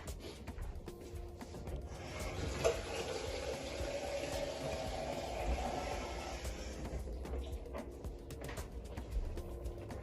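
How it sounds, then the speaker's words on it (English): Fresh water pours into a pot of okra soup with goat meat and dried tilapia, a soft rushing splash for several seconds in the middle, fairly faint and close with no talking. "Now I'm going to add some water, some fresh water to the pot."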